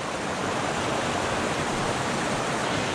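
Rushing white water of a small trout stream in Virginia, a steady broadband roar that stays loud and constant throughout with no voices.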